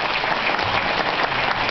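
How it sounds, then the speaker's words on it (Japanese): An audience at a Japanese singing event applauds after a performance, a brief, steady wash of many hands clapping together, even in loudness throughout, with no voices over it. "拍手でお送りくださいませ。"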